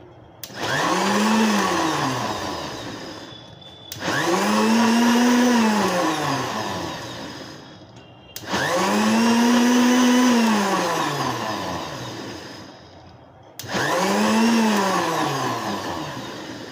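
A mixer grinder blending bread and milk for kulfi whirs in four loud bursts with brief pauses between, its motor whine climbing and dropping each time; close by, no voices.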